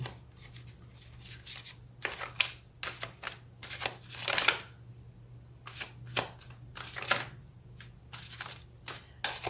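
Tarot cards shuffled by hand in repeated quick riffling bursts separated by short pauses, close and crisp over a faint steady hum.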